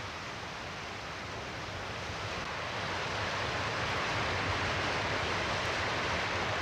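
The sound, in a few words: ocean waves and wind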